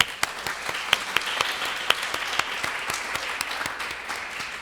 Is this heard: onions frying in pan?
no